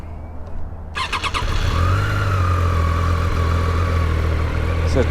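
A Triumph Daytona 660 motorcycle cranks with a brief starter whir, then catches and settles into a steady, loud idle held close by for the rest of the clip.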